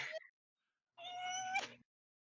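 A person imitates a cat with a drawn-out, nasal meow lasting close to a second, preceded by a brief higher vocal squeak, both faint and isolated against silence.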